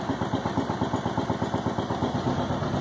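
A Subaru engine fitted in a 2006 Mokai idles just after starting, a close, steady, rapid chugging pulse with even rhythm and no talk.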